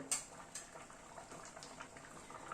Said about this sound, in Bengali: ডালটা প্রায় 3-4 মিনিট সময় ধরে ফুটলো